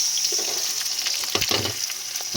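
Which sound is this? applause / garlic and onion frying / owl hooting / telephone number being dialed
garlic and onion frying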